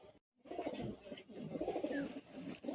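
Pigeons coo softly in a loft, a low murmuring burble that carries on steadily through the clip after a brief silent gap near the start, with faint chirps and rustle mixed in.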